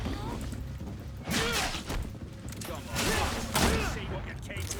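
Gunfire in the video game Greedfall, with a few sharp bursts of shots ringing out over a steady low rumble of background game sound and music.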